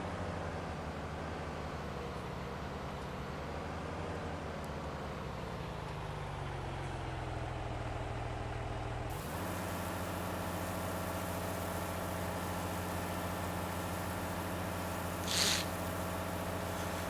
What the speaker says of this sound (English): I like the way the RPMs shoot up now when the auger's running.